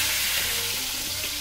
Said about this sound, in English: Sear the shanks on all sides until golden